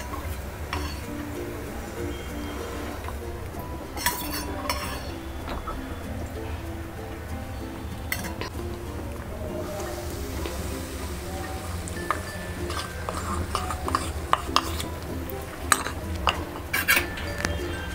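Rice flour roasts in ghee in a pan while a spoon stirs it, producing repeated light scraping and metallic clinks against the pan, close and fairly quiet, with faint talk at times.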